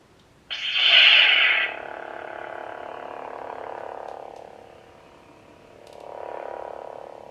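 A Galaxy's Edge toy lightsaber powers on with a loud, bright ignition burst, then settles into a steady electronic hum that swells and fades as the blade moves, with no talking over it.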